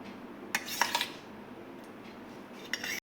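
Sour curd being spooned into a steel mixer jar for masala chaas, a few quick clinks and scrapes of a spoon against metal, close and fairly faint in a quiet kitchen.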